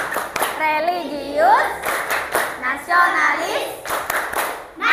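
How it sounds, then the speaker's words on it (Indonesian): A school class stands and performs the rhythmic Tepuk PPK clapping chant, sharp group claps in patterned bursts alternating with children's voices chanting words together, loud and close in a classroom. "yuk biar semangat kita tepuk PPK dulu"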